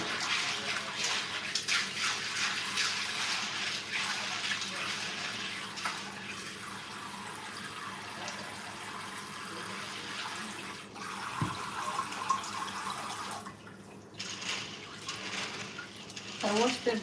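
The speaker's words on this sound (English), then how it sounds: "I wash the beans, then I wash the corn" Tap water runs hard and steadily into a kitchen sink while beans and corn are rinsed by hand, a close, continuous rush with shifting splashes and a few knocks, and people talking faintly over it.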